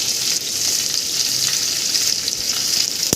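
Chopped garlic, large-cut onion and diced capsicum sizzle steadily in a hot pan while being stirred, a dense continuous frying hiss with a sharp clink near the end, no voices.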